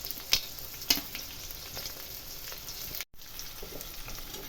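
Tomatoes and chillies for poha sizzle quietly and steadily in a pan, with a couple of sharp spatters near the start and a brief dropout partway through.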